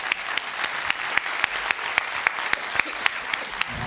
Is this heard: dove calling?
no